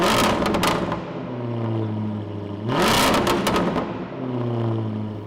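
A Lister LFT-666, a modified Jaguar F-Type, revving through a Quicksilver exhaust: two loud blips of the engine rising and settling back to idle, close by and with no talk.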